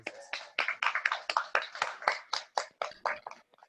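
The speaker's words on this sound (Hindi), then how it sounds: "जब वे आते हैं क्यों ना ताली बजाकर हम भाई आशीष का स्वागत करें" A small church congregation claps to welcome a speaker, giving a brisk, irregular run of about fifteen claps that fades out toward the end.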